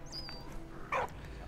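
In the game Valiant Hearts, a dog gives a short whimper and a brief yip, faint and close against a low background hum.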